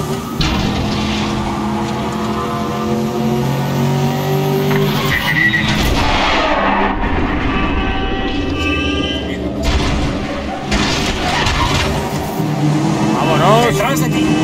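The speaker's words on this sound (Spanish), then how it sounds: "El tráfico se pone denso." Road traffic in the shooter game Medal of Honor Warfighter, with cars roaring past, skids and booms mixed under frequent speech, loud and busy throughout.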